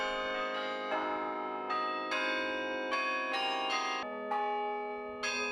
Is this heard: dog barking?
no